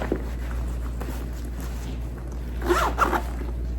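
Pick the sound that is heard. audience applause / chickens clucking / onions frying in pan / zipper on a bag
zipper on a bag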